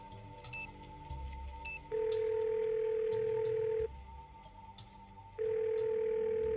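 Telephone dial tone in the Nancy Drew: Ghost of Thornton Hall video game: a steady hum with a higher tone switching on and off in long blocks, and two short ringing beeps near the start.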